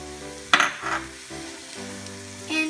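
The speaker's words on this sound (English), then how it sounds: "So the zucchinis are going to go into the pan." Zucchini pieces dropped into a hot pan of softened onions, setting off a sudden crackling sizzle with a few stirring knocks, then a steady low frying hiss, nearby and moderately loud.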